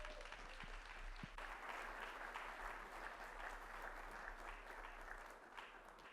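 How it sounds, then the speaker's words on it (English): A large audience at a student summit claps in steady, sustained applause, a dense wash of many hands that fades slightly near the end, with faint crowd murmur beneath. "Please give him a round of applause."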